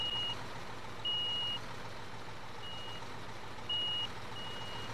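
Truck reversing in Construction Simulator, its backup alarm giving evenly spaced high beeps over a low, steady engine rumble at moderate distance.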